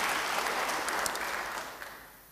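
Church congregation applause during an Indonesian sermon, a brief burst of many hands clapping that fades out within a couple of seconds.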